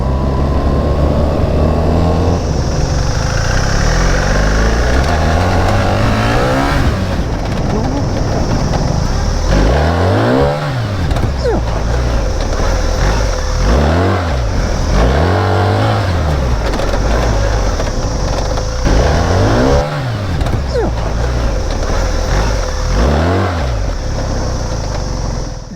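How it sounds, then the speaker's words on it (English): A BMW R 1300 GS Adventure motorcycle rides off-road on dirt, its engine loud and close throughout with repeated rising and falling revs as the rider works the throttle. "today I want to push the bike in the dirt to get a real feel for these significant changes in frame geometry and steering"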